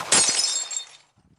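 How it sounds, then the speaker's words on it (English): A bullet smashes into a car headlight in a wartime night scene during the bombing of Darwin, a single sharp burst of shattering glass with bright tinkling that decays over about a second, followed by faint low rumble. "You continue to bicker until a bullet smashes into one of your headlights."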